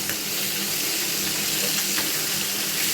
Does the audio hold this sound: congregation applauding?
no